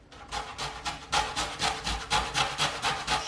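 Half a lemon and half a lime zested on a grater, about a dozen quick rhythmic rasping strokes, close and crisp, with no talking.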